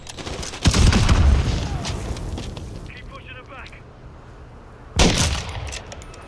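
Gunfire from Modern Warfare III in a snowy sniping match: a loud booming shot opens, rumbling decay and scattered crackle follow, then a second heavy shot lands near the end, with a voice talking faintly underneath.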